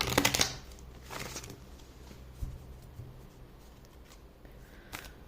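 A deck of tarot cards being shuffled by hand, with quick papery riffles and soft bursts of card flicks, then quieter light shuffling and handling, close up and without speech.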